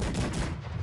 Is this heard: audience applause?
no